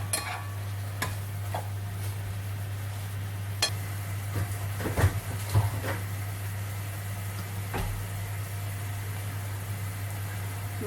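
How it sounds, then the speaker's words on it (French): Bananas cook in a pan under a gentle, steady sizzle, with occasional utensil scrapes and clicks as they are stirred and a constant low hum underneath. "N'oubliez pas de remuer de temps en temps."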